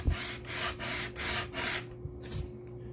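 A copper water block being lapped by hand on 180 grit sandpaper under light pressure, giving five steady back-and-forth rasping strokes, close and loud, then a couple of quieter scrapes.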